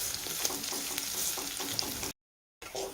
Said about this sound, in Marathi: ह्याला दहा ते पंधरा मिनटं छान असं परतून घ्यायचं आहे